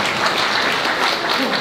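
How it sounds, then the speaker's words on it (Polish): A short burst of dense applause from a large audience at a music contest, even and continuous, heard from a distance. "Duże brawa poprosimy."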